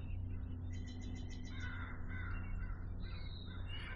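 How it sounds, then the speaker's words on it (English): A crow caws in a quick series of harsh calls, fairly distant, with other songbirds such as a robin, a towhee and warblers calling faintly in the outdoor background. "we got a crow"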